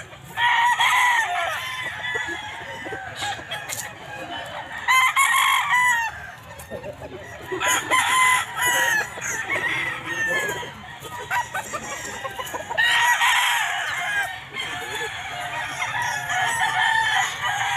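Bulik gamecock roosters at a pet market tiangge crowing repeatedly, several loud cock-a-doodle-doo calls in bursts with clucking and busy market noise throughout.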